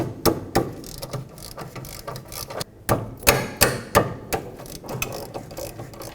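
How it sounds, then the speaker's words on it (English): Ratchet wrench loosening 13mm caliper bracket bolts on a Pontiac G6 rear knuckle, a series of sharp metallic clicking strokes in uneven bursts, close and loud with short pauses between turns. "And now we can undo the two 13mm bolts that connect the caliper bracket to the knuckle."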